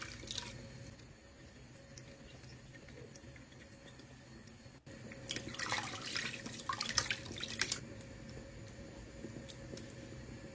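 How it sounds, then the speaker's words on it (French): Mixed placali cassava paste is strained into a pot, giving a faint watery pouring and dripping sound that swells into a louder splashing stretch midway before settling again. "bien remuer pour ensuite filtrer dans une cocotte pour enlever les grumeaux ou les saletés"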